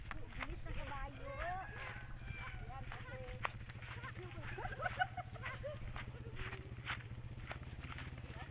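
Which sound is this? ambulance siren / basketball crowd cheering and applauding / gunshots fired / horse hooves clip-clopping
horse hooves clip-clopping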